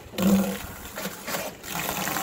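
Collomix water dispenser filling about 6.4 litres through a hose, giving a steady rushing, splashing flow that holds at a moderate level throughout with little change.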